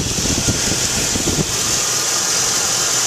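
The 5.3-liter Vortec V8 of a 2000 Chevrolet Silverado Z71 truck idles, humming evenly with a low rumble and broad hiss, running smoothly without revving throughout.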